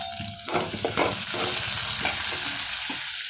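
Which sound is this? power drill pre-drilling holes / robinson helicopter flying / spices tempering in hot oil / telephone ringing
spices tempering in hot oil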